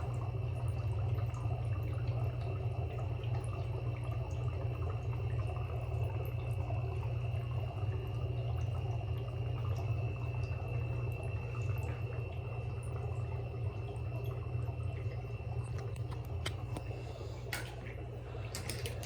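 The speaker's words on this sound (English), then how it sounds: "So we start back up with the bubbling." Steady bubbling and gurgling of water from an air pump in a brine shrimp hatchery, continuous and even, with a low mechanical hum underneath.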